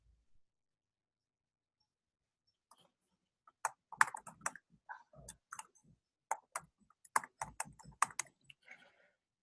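Brisk keystrokes on a computer keyboard while logging in, an irregular run of sharp clicks up close after a quiet start, with no voices.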